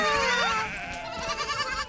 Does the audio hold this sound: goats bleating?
yes